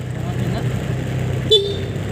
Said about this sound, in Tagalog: Busina ng Honda Click 125 version 3, the ultimate game changer.